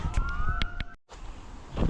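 A siren wails with a rising tone alongside sharp clicks and noise, cuts out briefly, then the background resumes.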